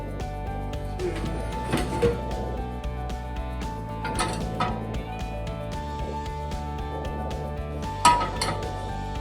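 Metal pans clink and clatter a few times against a stovetop over medium-high heat, with sharper knocks at irregular intervals over a quiet background hum.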